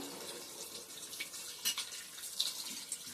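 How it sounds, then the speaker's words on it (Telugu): Water poured into a pot of cooking mixed curry, a soft running trickle with a few splashes, close and moderately quiet. "ఒక అరచొంబు వేసేసి కాసేపు అలా ఉడికిద్దాం"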